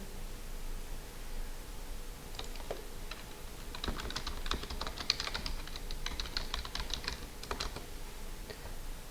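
Steady clatter of typing on a computer keyboard while filling in a form, close and clear, coming in quick runs of keystrokes with short pauses over a soft background hiss.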